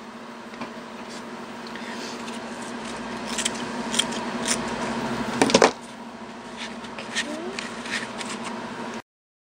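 Quiet snipping of scissors cutting lace, a few soft cuts and rustles, with one sharper crisp snip in the middle, close by in a still room.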